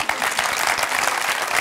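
A studio audience on a Turkish television talk show applauds, a steady, dense wash of clapping at even loudness throughout the short burst, with no voices over it.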